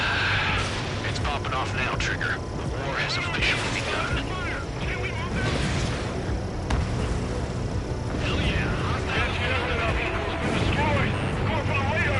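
An anti-air radar vehicle blows up in the Ace Combat 7 video game, with booming blasts and roaring jet and weapon noise mixed under constant radio-style voices.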